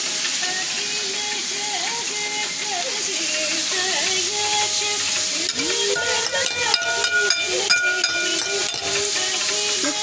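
Snake gourd frying in a pan and being stirred, a loud, constant sizzle and hiss with scraping stirs, a steam-like whistle running through it and a burst of sharper clatter in the second half.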